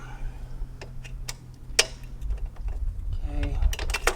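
Tools working on the rear shock bolts of a 2022 Honda Grom motorcycle: sparse, sharp metallic clicks and taps at irregular intervals over a low background hum, close by and fairly quiet.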